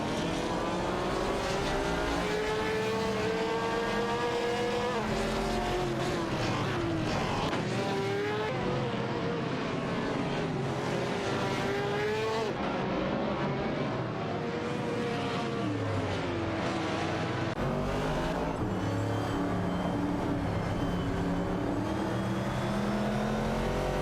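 Race car engines revving and roaring in an AI-generated race with Nissan R382 prototypes, a dense continuous engine drone rising and falling in pitch through the whole stretch, loud and steady, with no voices.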